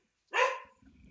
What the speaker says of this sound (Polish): przepraszam za psa